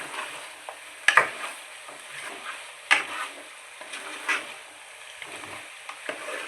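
Chicken fry being stirred in a pan, a spoon scraping and clinking in bursts over a soft constant sizzle, close and fairly quiet, with no voices.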